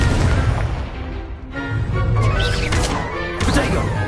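Fiery Confringo blasts in Hogwarts Legacy land as a series of booming crashes and thwacks, several impacts in quick succession, loud and close amid game noise.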